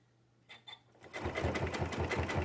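A sewing machine stitches fabric tubes for a jelly roll rug, its steady rapid motor hum and needle rhythm starting after a couple of soft handling knocks and running close and loud to the end.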